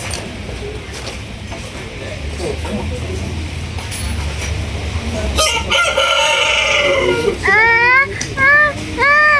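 A rooster crows loudly and close in a rural yard, with several rising and falling calls toward the end over outdoor background noise and some earlier chatter and children's voices.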